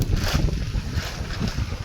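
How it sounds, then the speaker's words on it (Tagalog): Steady, loud wind buffeting the microphone, a continuous low rumble with gusty swells and broadband rushing noise throughout. "Lakas ng hangin."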